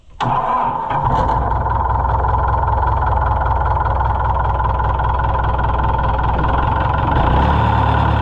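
A White Iseki 2-65 tractor with a weak battery cranks, catches and then runs at a steady, loud close-up idle for several seconds, with a slight change in tone near the end.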